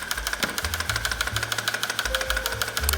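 Clawlab H1 tufting gun punching yarn through fabric, a rapid, steady mechanical knocking and buzzing close up, with the motor pitch shifting slightly as the speed changes.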